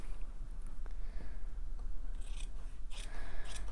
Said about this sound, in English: I'll just trim it with my scissors for the minute.